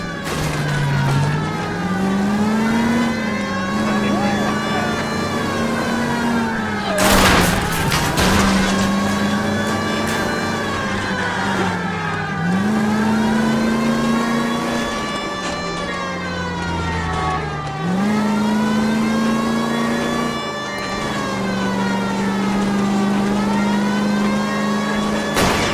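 Car engines roar and rev continuously through a chase in L.A. Noire, pitch rising and dipping with each gear shift, loud and close, with a brief sharp crash or impact burst partway through.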